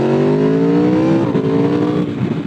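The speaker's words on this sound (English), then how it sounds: "But now I'm trying to vary the engine RPMs" A 2016 Aprilia RSV4 RF motorcycle engine revs loud and close while being ridden, its pitch climbing steadily, dipping, then rising again as the RPMs are varied, with no talk over it.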